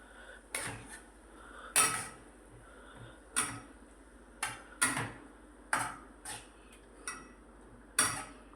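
A spoon stirs ginger, chili and garlic paste in a pan, making about a dozen sharp metallic clinks against the pan in an irregular rhythm, close and clear over a quiet background.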